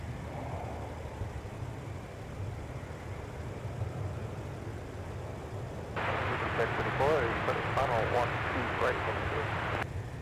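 An airliner on takeoff from runway 17 at Minneapolis–St. Paul airport, a broad, sustained engine roar that grows louder partway through, under crackly radio voices from air traffic control.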